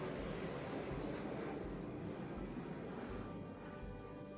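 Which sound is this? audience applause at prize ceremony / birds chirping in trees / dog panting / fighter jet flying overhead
fighter jet flying overhead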